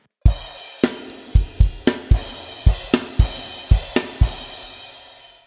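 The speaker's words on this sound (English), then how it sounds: "there's a lot of crash cymbals happening on the ends there," Drum kit accents close out the chorus ends of a song, with crash cymbals ringing among about a dozen punchy kick and snare hits, played close and loud with no talking.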